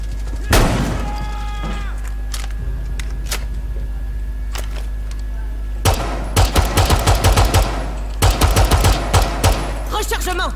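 Gunfire in Rainbow Six Siege: a sharp shot early, scattered single cracks, then loud rapid bursts of automatic fire in several rattling volleys over a steady low hum, with faint talk in the background.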